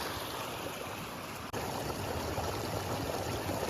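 Water pours steadily from a hose at a creekside campsite water source on Breccia Creek in Jasper National Park. The rushing, trickling flow is constant and moderately loud, with one brief dip partway through and no voices.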